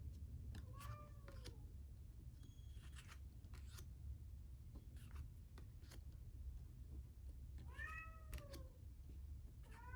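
A cat meows close by, with two clear drawn-out meows near the start and another pair later, over a low steady hum, with a few scratchy clicks in between.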